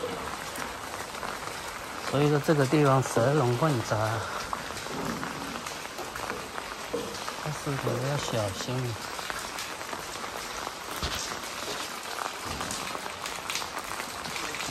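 Steady rain falls over a crowded urban village in Xi'an, a soft continuous hiss of drops on surfaces, with people talking close by through much of it.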